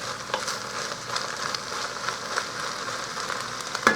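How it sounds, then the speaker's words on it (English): Cabbage and mixed vegetables sauté in a pan for soup, making a soft, steady sizzle with scattered light crackles and a few faint utensil clicks, close by and without talk. "I give everything a little saute first."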